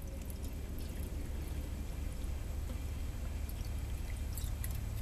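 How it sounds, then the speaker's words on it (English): Alcohol fuel pours steadily from an aluminum bottle into a Trangia alcohol stove, a continuous soft trickle close by over low background hiss, without talk. "I'm filling that stove up about 2/3 of the way full."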